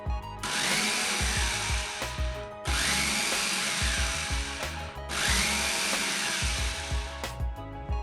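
Small electric food chopper running at its lowest speed while mixing dough, a steady motor whir with the thud of dough against the bowl, in three bursts with brief pauses between, close and loud.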